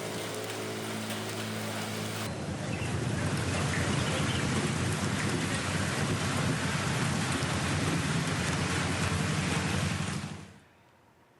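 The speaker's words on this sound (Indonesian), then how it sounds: "hujan deras yang mengguyur ibu kota semalaman suntuk membuat ruas jalan Ledjen Suprapto Cipayung Putih, Jakarta Pusat, Kamis pagi kembali terendam banjir" Heavy, steady downpour during flooding in Jakarta, a dense roar of rain hitting surfaces that holds loud and constant before cutting off abruptly near the end, with no voices.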